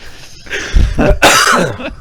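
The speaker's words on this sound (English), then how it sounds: "Was that first cough supposed to be muted?" Podcast host coughing close to the microphone, a couple of loud, harsh bursts with a throat-clearing quality, heard alone without speech.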